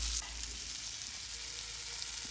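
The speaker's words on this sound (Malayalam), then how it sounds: "നല്ല രസമാണ് ഉണക്ക സ്രാവ് വറുത്തു" Dried shark fries in a pan, a steady, close hiss of sizzling oil that carries on without pause and without any talk.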